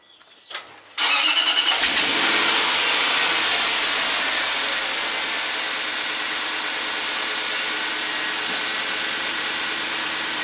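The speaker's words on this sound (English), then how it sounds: "start the vehicle and pump it" A 2005 Land Rover LR3 engine cranks and fires after a few faint clicks, then settles into a loud, steady idle close by for the rest of the clip, in a garage during a brake job.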